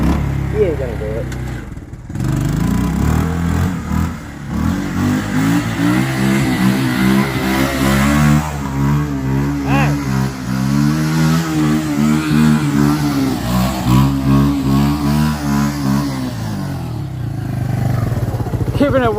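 A motorcycle with a loud aftermarket exhaust revs hard and holds high revs, its harmonic engine note rising and falling continuously and loudly close by, with people's voices mixed in.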